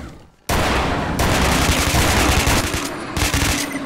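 Sustained automatic gunfire from a firefight in the shooter game STALKER: Shadow of Chernobyl, loud and dense, starting abruptly after a brief quiet moment and continuing as rapid bursts with a few pauses.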